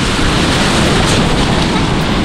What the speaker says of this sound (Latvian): Nāk vilnis.